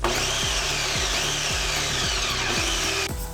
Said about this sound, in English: we're going to head over to the food processor and we're going to just process some of these bread cubes